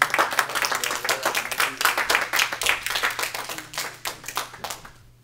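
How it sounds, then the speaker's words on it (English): A church congregation applauds with dense, steady hand clapping that holds strong, then thins and fades out at the very end. "give a round of applause, hand clap, for a worker of Jesus"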